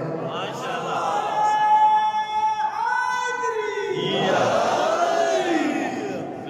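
A crowd at a religious majlis gathering raises a loud, drawn-out chant, voices merging into a sustained collective slogan that swells and shifts pitch, with a second rising wave of shouting toward the end.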